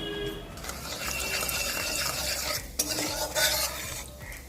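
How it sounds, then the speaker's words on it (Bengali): Crushed black peppercorns crackle in hot mustard oil, a dense close sizzle with a spoon stirring and scraping the pan throughout, a few louder spits near the end. "গরম তেলে দিয়ে দিচ্ছি গোটা গোলমরিচ ভেঙে নিয়েছি"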